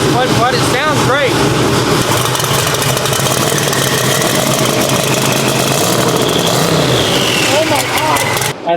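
A methanol-fueled Texas Speed Camaro engine fires up for its first startup and revs, a loud, rough, continuous roar that dominates throughout while people talk over it.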